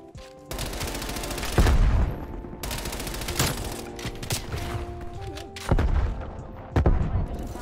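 An MP5 fired from the hip in Call of Duty Cold War rattles out in loud automatic bursts separated by short pauses, with heavy impacts and game effects between bursts.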